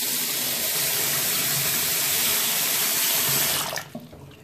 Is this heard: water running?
yes